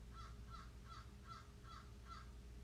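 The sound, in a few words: crow cawing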